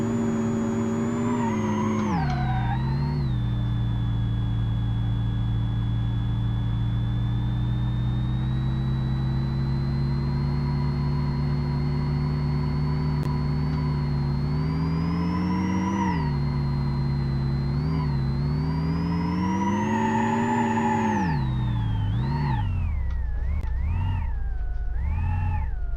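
A car engine in BeamNG.drive revs loudly and steadily throughout, with pitch climbing, dipping and swinging as the throttle changes, ending in choppy rises and falls.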